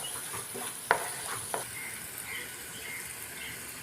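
Green chillies drop into a pan of prawn and potato curry that sizzles softly and steadily. A couple of sharp clinks of utensil on pan come early, then the quiet frying goes on alone.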